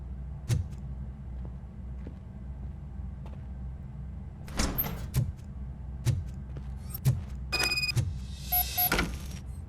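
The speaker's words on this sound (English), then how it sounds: "Now let me get that door open for you." A door opens in RoboCop Rogue City: heavy, evenly spaced metallic footfalls lead into a mechanical clank and a whirring, sliding rush of the door moving near the end, with no talking.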